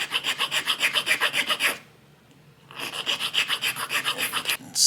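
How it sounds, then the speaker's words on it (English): Rhythmic rasping strokes of a file smoothing leftover fret tang under the fret bead on a Martin M-38 guitar, about a dozen quick back-and-forth strokes, a short pause, then another run of strokes. "there's a little bit of it left on the underside of the bead, so you got to file that off"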